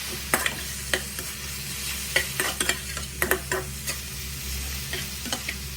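A spice mixture with coriander powder is being stirred in a frying pan, giving irregular scraping strokes over a soft, continuous sizzle, close and fairly quiet, with no voices.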